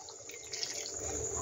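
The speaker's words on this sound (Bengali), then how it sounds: "এবার একটু এই মিক্সি ধোয়ার জলটাই আমি দিয়ে দিচ্ছি।" Water from rinsing a mixer jar poured into a pan of egg curry, a brief continuous splashing pour that grows slightly louder, close and alone.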